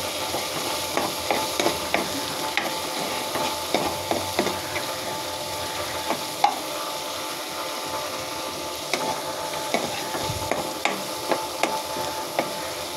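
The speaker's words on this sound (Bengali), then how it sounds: "লং গোলমরিচ, মানে সব গরম মশলা একসাথে মিশিয়ে রেখেছি। নাড়াচাড়া করে নিব।" Whole garam masala spices, including cloves and black pepper, fry in a pan with a steady low sizzle, punctuated by regular taps and scrapes of a spoon being stirred through them.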